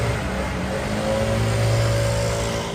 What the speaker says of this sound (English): It's those annoying blowers that gardeners and residents use to clean the leaves out of their yards